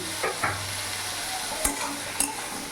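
Puti fish curry with salt and turmeric being stirred in a pan, a few soft scrapes and taps over a steady low sizzle, fairly quiet and without talk.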